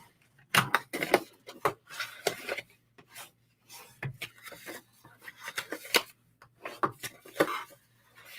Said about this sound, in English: I'm going to go ahead and burnish my score lines.